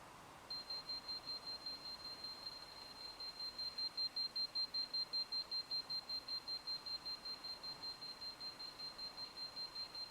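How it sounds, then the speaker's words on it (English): A MUSTOOL MT525 electromagnetic radiation tester sounds its alarm in a kitchen, a steady run of rapid, evenly spaced high-pitched beeps that continues without a break, moderately loud and alone with no talking. "Keep in mind the alarm may sound because there are other devices very close by in this kitchen"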